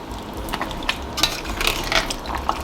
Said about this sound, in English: Give this a nice stir, mix everything up.